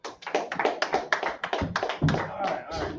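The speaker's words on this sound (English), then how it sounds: "Let's go and clap it up." A congregation at a Sabbath service claps in a quick, rhythmic pattern, close and fairly loud, with voices calling out over the beat.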